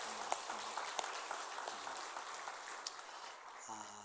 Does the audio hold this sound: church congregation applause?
yes